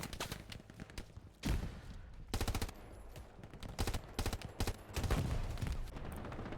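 Bursts of machine-gun fire from the Hell Let Loose World War II shooter game, several rapid strings of shots with louder thumping volleys mid-clip, close and fairly loud with no talk over it.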